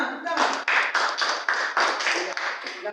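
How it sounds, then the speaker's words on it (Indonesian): A classroom group claps after a student presentation, with a brisk, even run of hand claps from a small crowd that holds steady for several seconds. "Tepuk tangan."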